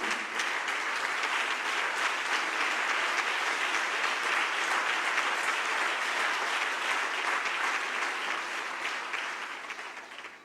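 A church congregation applauding to acclaim the Lord during a Sunday service, a long, steady wash of many hands clapping that holds strong before tapering off at the end.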